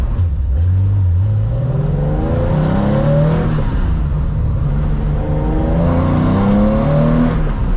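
A loud Porsche 911 engine with a new muffler revs hard and continuously, its pitch climbing and falling through repeated surges, close and unbroken throughout.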